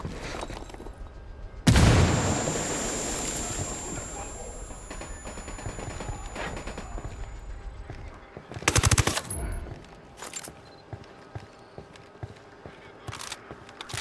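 Gunfire in the video game Ghost Recon Wildlands: a loud burst opens the scene, a dense stretch of shooting follows, and sharper bursts of automatic fire come later, with game noise in between.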